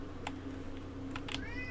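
A pet cat lets out a faint, short meow indoors, close to a couple of soft keyboard clicks, over a low constant background hum.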